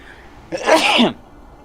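A single sharp sneeze bursts out close by amid quiet room noise.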